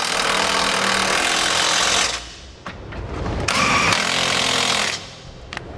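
A power tool tightens the bolts of a Curt trailer hitch receiver on a 2017 Chevrolet, giving two loud, sustained whirring bursts separated by a short lull, then a quieter tail.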